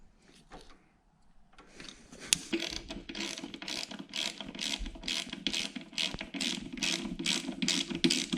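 Ratchet clicking in a steady rhythm while tightening a hose clamp on the radiator of a 2003 Honda Shadow 1100 motorcycle, close and fairly loud, about a dozen quick strokes after a brief quiet start.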